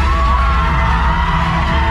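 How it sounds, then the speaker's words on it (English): A packed cinema audience at a KGF Chapter 2 screening roars continuously, a dense wall of shouting, whooping and screaming that stays loud and unbroken throughout. "Everybody started shouting and screaming"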